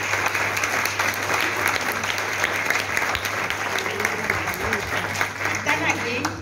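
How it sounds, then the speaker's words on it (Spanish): An audience at a mental health congress closing session claps for the authors of a presented paper, a sustained roomful of clapping over a steady low hum, with faint voices mixed in. "Un aplauso"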